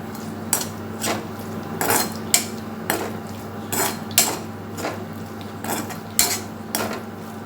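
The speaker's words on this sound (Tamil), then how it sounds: "இப்போ கிண்டி விட்டுருங்க" A spoon stirs cooked snake gourd kootu in a metal pan, producing a regular series of clinks and scrapes about every second against a quiet background, with no voices.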